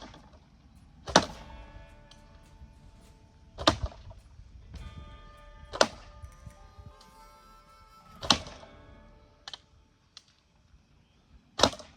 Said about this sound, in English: watch this real quick of me shooting 5 or 6 arrows